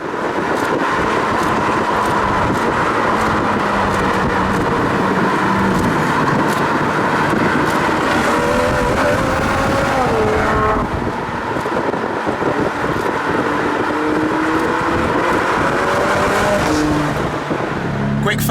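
A performance car drives a lap at speed, steady loud engine drone with wind rush buffeting the microphone and gear-change pitch sweeps, a voice talking over it at times.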